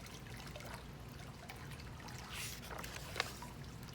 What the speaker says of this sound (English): Splash! Mr. Carp jumped into the pool.